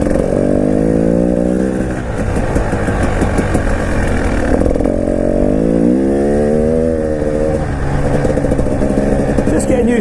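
A 2019 KTM 300 EXC TPI two-stroke dirt bike engine drones close by, revving up and down in gentle swells while staying at moderate revs throughout, loud and continuous.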